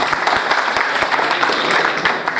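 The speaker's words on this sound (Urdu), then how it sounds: "ایک دفعہ تالی بجا دیں" An audience at a book launch ceremony in Islamabad gives a short round of applause, with evenly spaced, fairly distinct claps at moderate volume.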